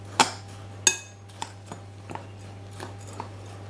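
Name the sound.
stirring sugar mixture in a bowl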